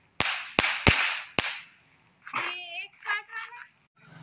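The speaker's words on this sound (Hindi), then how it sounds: "ये था स्काई शॉट थोड़ा बड़ा वाला का" Sky shot firecrackers set off outdoors during Diwali: four sharp, loud cracks in quick succession, followed by a voice speaking.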